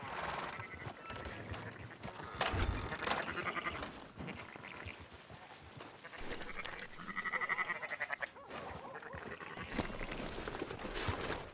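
Sheep in Red Dead Redemption 2 bleat several times at irregular intervals, with soft clopping and background noise between the calls.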